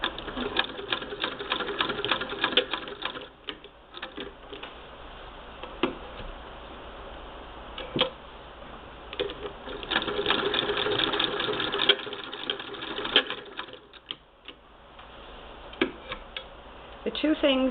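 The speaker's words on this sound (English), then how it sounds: "So now, other than the bobbin winder, my grandmother's machine is a hand crank." A Singer 99-13 sewing machine converted from knee bar to hand crank runs steadily, giving a soft continuous mechanical whir with faint ticking and a few clicks, all fairly quiet and close.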